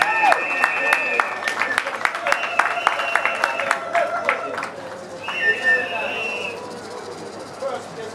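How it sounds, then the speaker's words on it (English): An audience claps to welcome a speaker at an annual Marcus Garvey tribute event, a dense spread of handclaps running for several seconds with voices talking over it, then thinning out. "Ladies and gentlemen, put your hands together and welcome Mr."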